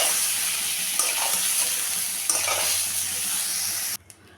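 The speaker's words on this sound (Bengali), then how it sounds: "এখন আমি বেগুনটা ভেজে নেব" Eggplant pieces coated with salt and turmeric fry in hot oil with a continuous close sizzle, broken by a couple of sharp stirring knocks, then the sound cuts off abruptly near the end.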